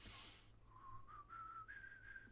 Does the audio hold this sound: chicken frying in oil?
no